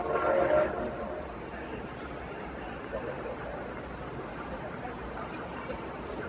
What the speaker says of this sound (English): Here comes the Christmas train.